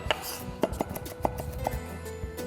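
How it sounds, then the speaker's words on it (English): Garlic being chopped with a knife on a cutting board for dal: a handful of crisp, irregular knife strikes, close and moderately loud, with no talking. "As you mash the garlic, that's a good trick to chop garlic"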